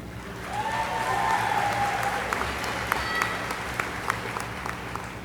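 A commencement audience at Averett University's 2019 graduation applauds international graduates, with steady, dense clapping from a large crowd in a reverberant space, with a few sharper claps standing out.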